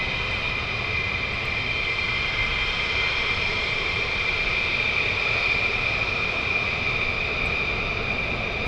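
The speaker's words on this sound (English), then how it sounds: "These are the F-15E models that have just departed." A sustained roar comes from F-15E fighter jets leaving RAF Lakenheath, loud and unbroken from start to finish, with a high whine over a broad rumble and no voices.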